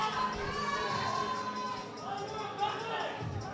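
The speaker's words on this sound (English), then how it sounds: "She's got her crowd cheering for her." A crowd at a women's bench press attempt during a powerlifting meet, with steady shouting and cheering throughout, voices overlapping in a lively, continuous babble.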